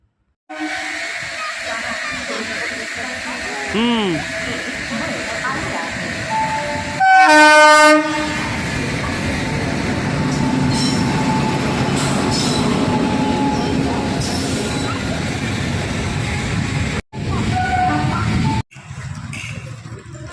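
A train moves through Dharashiv railway station, with a loud rumbling run of rail cars, a short blast of the horn and faint wheel squeal, all heard close up and continuously.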